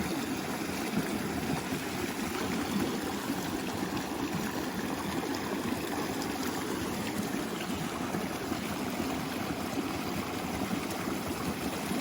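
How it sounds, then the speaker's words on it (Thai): Steady, broad rushing of falling water, continuous and fairly loud throughout with no voices. "ฟังเสียงน้ำตกไปก่อนนะคะ"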